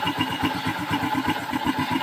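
A motorcycle engine idles steadily during carburetor tuning, its rapid, even low putter pulsing close by without talk.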